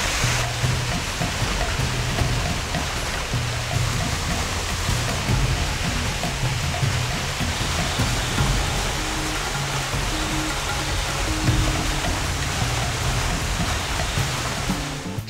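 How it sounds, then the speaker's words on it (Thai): Large waterfall curtain pouring inside Khao Chang Hai cave in Trang, a steady, dense rushing roar of falling water filling the space continuously with no pauses. "ม่านน้ำขนาดใหญ่นะ"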